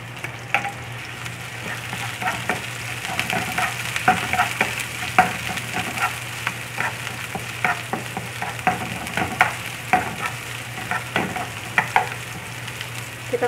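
Noodles stir-fried with Indomie goreng seasoning and vegetables in a hot pan, a steady close sizzle broken by repeated scraping and tossing strokes of the spatula, with no talking.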